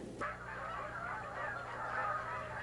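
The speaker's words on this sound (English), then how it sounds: "Winter is also an ideal time to capture and band Canada geese." Canada geese honk in a steady, overlapping chorus throughout, loud and fairly close, on a winter day at Blackwater National Wildlife Refuge.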